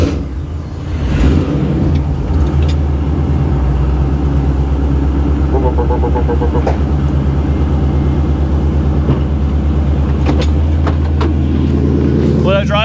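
A 1957 Chevy hot rod engine runs at a steady, loud, rumbling idle close by, a continuous drone with faint clinks over it.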